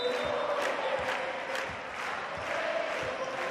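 Crowd at a CEV Champions League volleyball match between Guaguas Las Palmas and Montpellier HSC VB, roaring in a steady, dense wall of cheering and rhythmic chanting that fills the arena.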